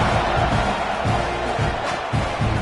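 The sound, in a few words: football stadium crowd cheering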